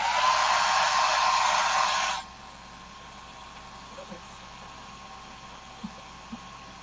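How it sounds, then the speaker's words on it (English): A hair dryer blows loud and steady for about two seconds, then cuts off abruptly, leaving quiet room noise with a couple of faint taps. "Let's peel it back all the way and I'll use the dryer on it."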